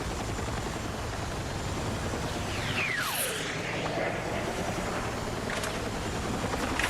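Transport helicopter in Battlefield 6, a large, bulky craft, giving a steady loud rotor and engine drone with a brief whooshing sweep as it moves, no talk over it.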